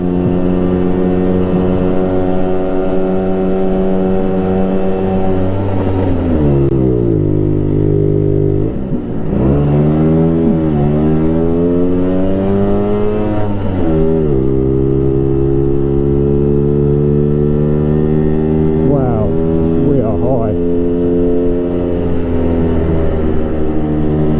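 Lambretta scooter engine climbing Hellfire Pass in first gear, a loud close drone that holds a strained steady pitch, dips briefly as the throttle eases and then climbs back again.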